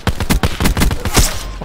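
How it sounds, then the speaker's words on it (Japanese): Loud, continuous automatic gunfire from the video game Call of Duty: Black Ops 4, rapid overlapping shots filling the whole stretch with little pause, with no voices over it. "すげえ撃たれてるけど"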